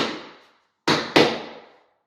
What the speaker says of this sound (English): once they're all laid, I like to kind of strike them in to suction cup them down to the floor